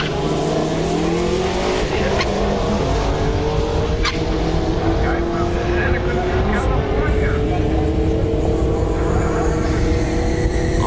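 A car on a racetrack lap, its engine droning loudly and steadily with rising and falling revs and some tire squeal, with a voice talking over it.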